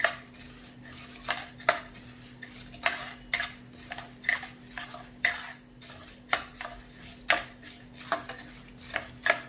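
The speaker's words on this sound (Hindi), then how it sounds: "ये कलर चेंज होने तक के हमें भूनना है" Sambar masala spices dry roasting in a pan, heard as a steady series of sharp metallic scrapes and clinks from a spoon stirring against the pan, irregularly spaced and fairly close, with no talking.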